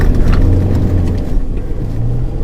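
A Mazda BT-50 3-litre bakkie rolls over a gravel section, a steady low engine and tyre rumble from inside the cab with faint crunching, no talking.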